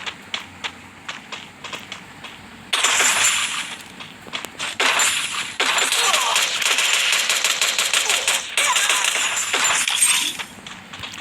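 Rapid bursts of gunfire in the Free Fire battle royale video game, with sharp clustered shots and dense sustained volleys.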